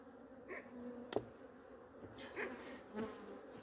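Honeybees buzz faintly around an opened hive during a winter hive change, soft intermittent hums with a few brief louder passes close by.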